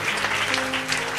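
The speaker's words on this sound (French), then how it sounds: "Clap for that." Congregation applauding at a church sermon, a steady wash of clapping filling the short moment under a faint sustained tone.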